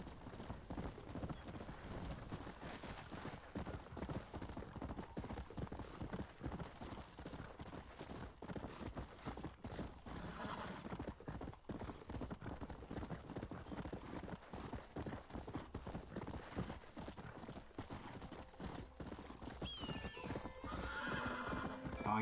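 A horse gallops in Red Dead Redemption, its hooves pounding in a fast, steady rhythm that stays close and continuous, with whinnies breaking through along the way.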